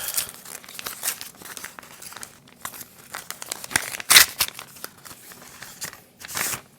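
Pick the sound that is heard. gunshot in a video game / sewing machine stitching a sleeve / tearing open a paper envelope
tearing open a paper envelope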